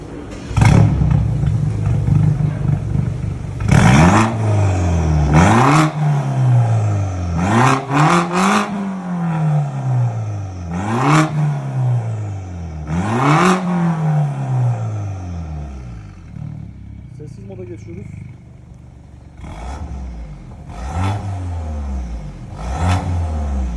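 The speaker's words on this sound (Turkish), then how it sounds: "orijinal M3 egzoz sistemini f 30la uyarlayarak kumandalı şekilde yaptık arkadaşlar" A BMW F30 320i fitted with a remote-controlled M3 exhaust system revs up and down in about half a dozen sharp, loud blips, settling to a rough idle between pulls and near the end.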